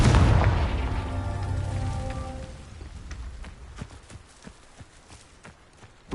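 A Confringo spell from Hogwarts Legacy erupts in a loud booming blast that rumbles and decays over a couple of seconds, followed by scattered crackling debris and clattering hoof-like thuds.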